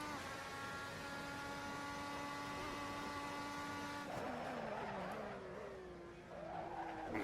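A Red Bull X2010 race car screams around the Spielberg circuit in Assetto Corsa, with a steady high-pitched engine whine that breaks into tire skidding and a falling engine pitch as it slows.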